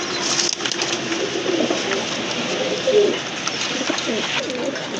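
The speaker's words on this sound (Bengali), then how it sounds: "বোম্বাই কবুতর মাশাআল্লাহ, ইন্ডিয়ান বোম্বাই কবুতর, বিগ সাইজের" Indian Bombay pigeons, a large breed, coo softly and repeatedly over a steady background hum, with low rolling calls rising now and then among faint rustling.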